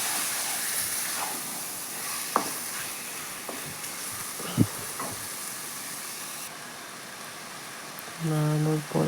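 Chicken coated in spices being stirred and fried in a pan for a Bengali-style dish, with a steady soft sizzle, occasional scraping clicks of the spoon, and a short tonal hum near the end.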